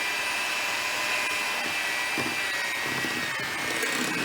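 A hand mixer whirs steadily while blending coconut bath bomb ingredients, a continuous high motor whine with soft irregular clunks from the bowl, close and alone without voices.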